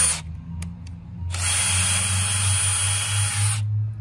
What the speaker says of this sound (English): When you drill them, you want to go halfway in.